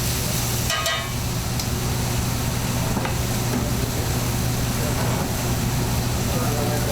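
Steak tips sizzle steadily in a very hot pan over medium-high heat, a constant hissing fry with a brief scrape or clatter near the start, while a cook talks over it.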